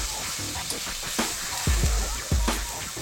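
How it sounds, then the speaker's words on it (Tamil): Tomatoes go into a pan of lady's finger masala, and a steady close sizzle of frying sounds under several soft thuds and stirring scrapes. "நீங்கள் இப்போ நாம் தக்காளியை சேர்த்துக்கலாம்."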